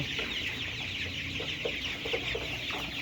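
Layer chickens cluck in short, scattered bursts over a steady hiss in a poultry farm, with a flock's soft murmur continuing throughout.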